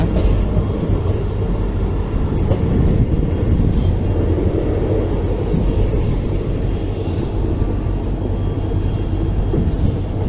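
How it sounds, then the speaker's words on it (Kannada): Passenger special train 06920 rolling into Guledagudda Road station, a continuous low rumble of wheels and carriages on the rails, close and steady throughout with no talking. "ನೋಡ್ರಿ, ಟ್ರೈನಿಗೆ ಗುಳೇದಗುಡ್ಡ ರೋಡ್ ರೈಲ್ವೆ ಸ್ಟೇಷನ್ಗೆ ಬಂತ"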